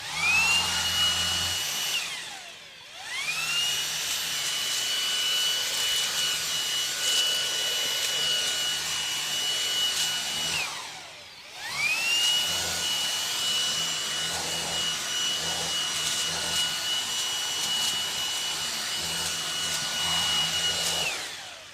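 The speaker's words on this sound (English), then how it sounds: "Let's go ahead and go on max mode again." Xiaomi Dreame V10 cordless stick vacuum running on max mode, a loud high-pitched motor whine that spins up, runs steadily, cuts out briefly and restarts twice, with rustling of cleaning across surfaces underneath.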